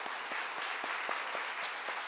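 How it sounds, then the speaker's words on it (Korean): A church congregation at a New Year's Eve service claps together to welcome 2022. The applause is dense and steady, with many overlapping hands heard from a moderate distance. "2022년이 됐으니까 우리 함께 박수로 축하하고"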